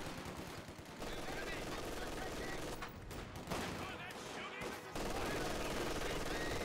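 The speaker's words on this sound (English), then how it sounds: "I got riflemen engaging with the MG," Machine gun and rifle fire from the Company of Heroes 2 video game, dense and continuous over a battle soundscape, with a commentator talking throughout.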